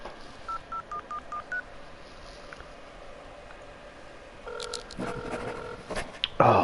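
Phone number dialing tones in The Occupation video game, a quick run of short beeps near the start, then a denser burst of layered tones and a louder electronic flourish toward the end, with no talking.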